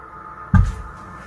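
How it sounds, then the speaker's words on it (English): A single dull thud from construction work just outside a window, close and fairly loud, with a short low rumble after it. "They are doing some construction work behind my window"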